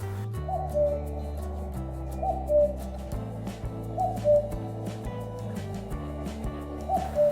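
A cuckoo's soft two-note call repeats about every one and a half seconds, fairly faint against a steady background of low music.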